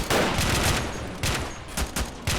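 Rapid bursts of rifle and machine-gun fire in a video game mod set in the 2003 Iraq War, a dense, loud volley of repeated shots with brief gaps and no talking.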